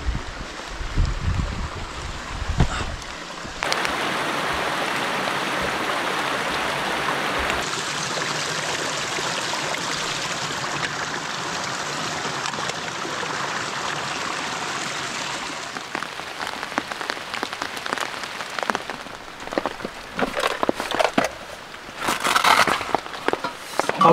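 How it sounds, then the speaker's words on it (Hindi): Heavy rain pours down in a deep forest at a bushcraft shelter camp. It is a dense, steady hiss of drops drumming on nearby surfaces, with sharper drips and pattering growing uneven toward the end. "और बारिश हो रही है"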